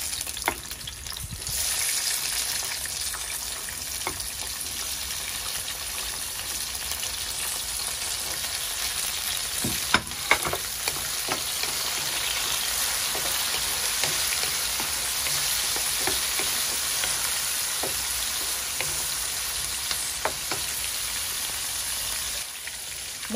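Chopped tomatoes and garlic sizzle steadily in a hot pan for a Filipino braised chicken dish, a continuous close frying hiss with occasional soft stirring clicks and no talking.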